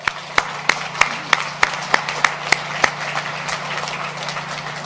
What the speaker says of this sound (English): a huge round of applause to all the auto workers here today